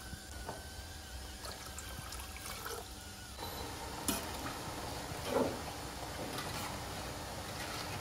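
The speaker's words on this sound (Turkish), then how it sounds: "Üzerine 4 su bardağı su ilavesi yaparak karıştırıyorum." Sugar and water are stirred together in a pot for baklava syrup: 4.5 cups of granulated sugar with 4 cups of water. Quiet, continuous swishing and faint liquid movement over steady low background noise.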